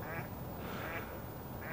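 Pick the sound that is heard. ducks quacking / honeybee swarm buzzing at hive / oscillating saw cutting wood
ducks quacking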